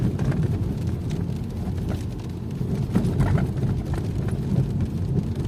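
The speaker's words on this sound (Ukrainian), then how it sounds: "Дощ поливає." Steady rain pours down in a dense, continuous hiss, with a low rumble beneath it and no voices.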